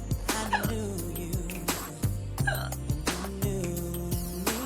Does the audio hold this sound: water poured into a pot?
no